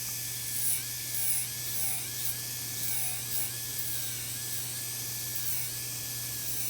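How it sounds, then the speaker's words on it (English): An electric nail drill fitted with a sanding band buzzes steadily while filing acrylic nails, a continuous high whine with a low hum underneath that holds at the same level throughout, and no voices. "I want to go back into my sand bead to clean all the residue off."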